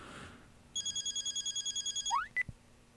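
Ringing tone of a phone call in the game Duel Love, a steady train of about a dozen quick electronic ring pulses, then a rising blip and a short click as the call cuts off, with no talk.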